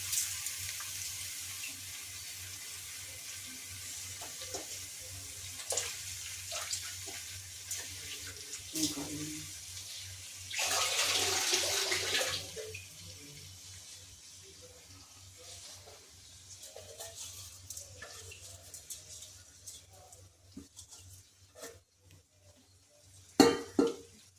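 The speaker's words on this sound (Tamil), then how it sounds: "இந்த டம்ளரில் தண்ணி ஊற்றணும்." Water is poured into a tumbler in one short splashing stream while cooking vegetable biryani, surrounded by quiet kitchen clinks and soft handling noises.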